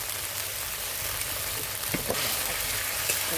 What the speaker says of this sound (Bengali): ভালো করে আমি একটু কষে নিই মশলাটাকে